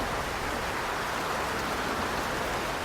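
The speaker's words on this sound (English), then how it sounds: "The rain outside has become a momentary deluge" Heavy rain pours down outside a house by the terrace doors, a steady dense wash of downpour with no breaks, alone and even throughout.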